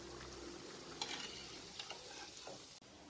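Pumpkin fritters frying in hot oil in a kadhai give a soft, steady sizzle, with faint scraping and clinking as they are lifted out into a strainer, all fairly quiet and close.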